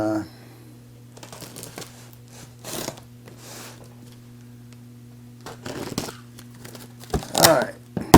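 A cardboard box holding a gold melting furnace is cut and torn open close by, with scattered scraping, crinkling and ripping bursts over a low hum, louder at the end, while a person talks.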